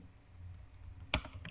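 A computer keyboard is tapped while data is entered in PowerPoint: a brief, clear cluster of keystrokes rises out of a faint, quiet room hum, with no talking.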